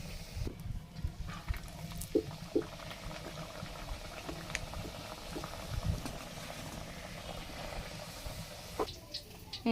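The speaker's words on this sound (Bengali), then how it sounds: "এই যে দিকে হচ্ছে মা লুচিগুলো ভাজতেছে" Luchi frying in hot oil over a village kitchen fire give a steady, fairly faint bubbling sizzle that runs the whole time, with scattered small pops and clatters.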